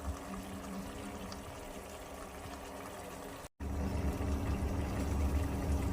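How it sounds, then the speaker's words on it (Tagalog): Coconut milk boils in a pan for tilapia, giving a steady broadband bubbling hiss that cuts out briefly, then returns louder and deeper. "Kumulo na yung gata natin guys."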